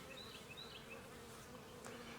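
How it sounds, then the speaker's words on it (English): Honey bees buzz at a queenless hive, a faint, steady, close hum with a few brief higher whines drifting over it. "These bees are talking."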